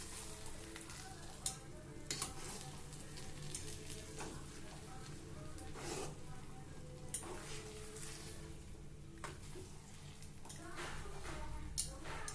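A spoon stirs kozhukattai flour mixture with onion in a hot pan, scraping and sizzling steadily at close range for the whole stretch, with no talking.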